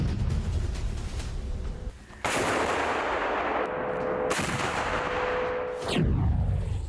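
A 2S4 Tyulpan self-propelled 240 mm mortar fires two heavy, booming blasts a couple of seconds apart, each a sudden loud crack that fades into rumbling noise, with a third sharp crack near the end.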